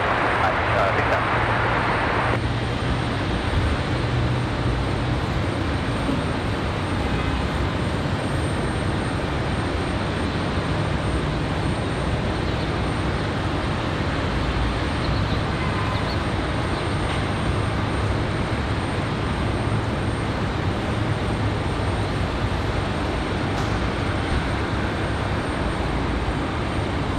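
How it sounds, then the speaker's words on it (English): A Boeing 777 airliner taxis back to its gate at Raleigh-Durham International Airport on a windy day, a steady broadband engine roar and wind rush filling the scene continuously, with voices faintly audible underneath. "Figured I'd let you guys enjoy that 777 returning to its gate."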